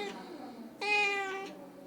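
Cats at an animal shelter: one clear, drawn-out meow rises close by over quiet background sounds, with a fainter mew just before it.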